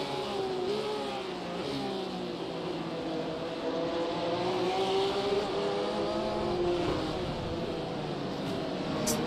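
A race car engine throttles up while rejoining the track from the gravel in a racing video game. It sounds like a steady, close engine drone with its pitch climbing and wavering as the revs build, alone without talk.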